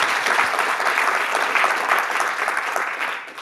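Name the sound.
audience applause at a talk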